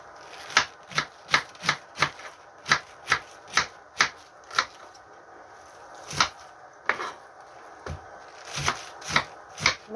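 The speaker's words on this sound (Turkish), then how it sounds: "Şimdi bunu doğrayalım." Steady knife chops through cabbage on a board, about twenty sharp strikes in an uneven rhythm with brief pauses, close and fairly loud.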